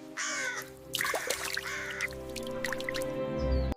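A crow caws a few times, close and clear, with harsh calls in a short burst over a steady low background hum.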